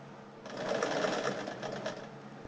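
A Bernina 817 sewing machine stitches in a quick, continuous whirr that starts abruptly, holds steady for about two seconds, then eases back, close by with no talking.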